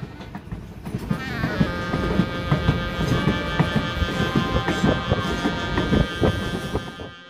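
A train on an Alaska route rolls along with a steady rhythmic clatter of wheels, joined by a sustained high metallic squeal that rings on throughout, close and loud, near a trestle bridge and tunnel.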